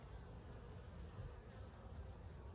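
Steady, low buzzing of many calm honeybees in a hive, a continuous even hum with no pauses and no voices.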